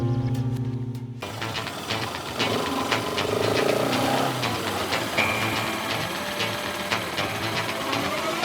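A motorbike engine idles with a steady, rattling, knocking chug, loud and close, after a brief musical tone at the start.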